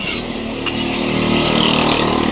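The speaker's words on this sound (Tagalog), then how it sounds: "Medyo maingay nga lang po dito ang mga sasakyang motor." Motorcycles pass nearby on a road, their engines droning and growing slightly louder as they go by, a continuous mid-pitched rumble with no talking.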